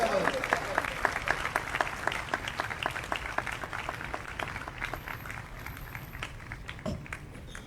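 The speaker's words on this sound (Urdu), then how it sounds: "آپ کی بھرپور تالیوں میں فضیلت مآب آرچ بشپ بینی ماریو ٹریولز۔" An audience applauds as an archbishop is welcomed to the podium at a church gathering. A steady crowd clapping starts strong and slowly fades. It sounds moderately distant, with a voice speaking over it at first.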